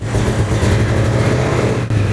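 An old, neglected Ford Mustang GT engine runs roughly at a steady, loud rumble, misfiring with uneven pulsing under a light throttle, close by, with one brief dip near the end.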